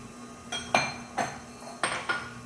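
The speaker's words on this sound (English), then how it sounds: "Got my whisk in a large mixing bowl" A metal whisk and a large mixing bowl being handled for a zebra cake batter, giving several sharp clinks and knocks spaced about half a second apart, moderately loud and close with no talk.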